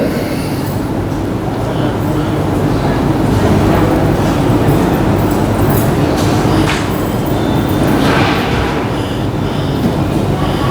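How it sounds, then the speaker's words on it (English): Air-conditioning noise leaks in through a door as a loud, continuous rumbling roar that fills the whole stretch without pause, much like the din of a railway station. "there's noise coming in from that air conditioning"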